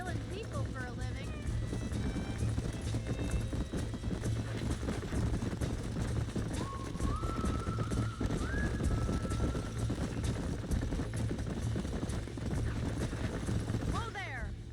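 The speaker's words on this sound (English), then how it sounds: "These are fine horses." Horse hooves clip-clopping steadily in the Western video game Red Dead Redemption, a dense continuous patter under game music and background tones.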